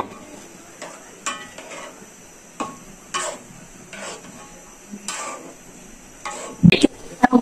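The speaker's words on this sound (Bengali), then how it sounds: "দিয়ে আবার একটু কষিয়ে নেব।" Beef and boiled chana dal are stirred in a pot in rhythmic scraping strokes about every second, ending in a few louder clanks of the utensil against the pot.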